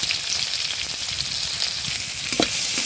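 Chopped onion and garlic fry together in hot oil with a steady, fairly close sizzle and hiss, broken by a brief stirring scrape near the end.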